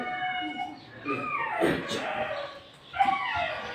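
Two dogs tied up together in a neighbourhood bark, yip and whimper close by in uneven bursts, while someone talks over them.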